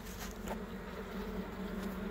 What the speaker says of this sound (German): Da sitzen Bienen, da sitzen Bienen, da sitzen Bienen